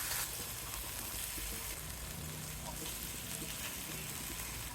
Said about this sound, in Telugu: మ్యారినేషన్ చేసిన చేప ముక్కల్ని పెట్టేద్దాం వేయించుకుంటాను సిమ్ మీద పెట్టి వేయించుదాం